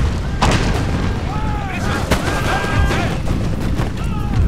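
Heavy cannon booms and sharp blasts of gunfire ring out amid a noisy battle in the video game Empire: Total War, with horses whinnying in the background.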